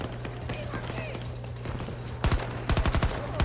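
Gunfire rings out in a squad match of a video game set on the Valparaiso map, with a few scattered shots followed by two loud rapid bursts of automatic fire near the end, while players talk.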